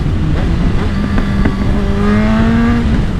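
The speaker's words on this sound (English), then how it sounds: "Let's listen to what the downshifts sound like." A 15-year-old superbike with a freshly flashed ECU roars loudly and close, its engine pitch climbing and shifting through gears in a continuous high-revving wail.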